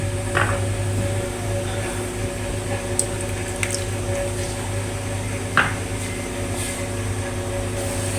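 Yogurt gravy for an egg curry is stirred in a pan, giving soft wet squishes and light drips over a steady low hum, with a few sharper clicks of the spoon.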